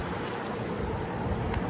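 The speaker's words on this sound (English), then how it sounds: "in windy, choppy days like it is right now" Gusty wind buffeting over rough water on a lake bank, a continuous loud rushing wash with no voices.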